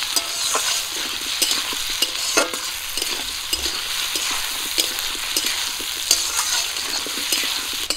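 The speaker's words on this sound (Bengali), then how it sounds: "আলুগুলো আমি হালকা করে ভেজে নেব" Potatoes with a little turmeric lightly frying in a pan, a steady close sizzle broken by frequent scraping stirs of a spatula, with no one talking.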